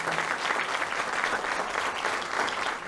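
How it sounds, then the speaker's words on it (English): A steady round of applause from the audience at a Head Start ribbon cutting ceremony, dense and even, with no voices over it. "Let's give them both a round of applause."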